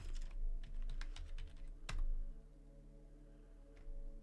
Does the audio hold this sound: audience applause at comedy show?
no